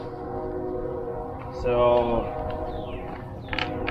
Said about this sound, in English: Sorry about the train, y'all.